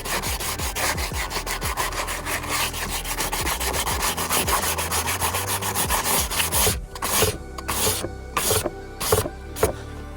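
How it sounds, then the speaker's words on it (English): Wood being sanded by hand with sandpaper while building a desk: steady rapid back-and-forth rasping strokes, close and loud, continuing throughout with a few sharper pauses near the end. "you see this actually cleans up fairly nicely with just a couple passes from the sandpaper."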